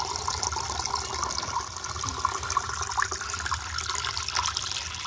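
Tap water runs steadily into a container for a household puja, a continuous close splashing and gurgling flow without pauses or speech.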